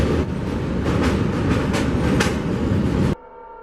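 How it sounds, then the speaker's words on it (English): A train rumbles past on railway tracks, loud and close, with rhythmic clickety-clack of wheels before cutting off abruptly to quiet. "The person waits for the train to pass"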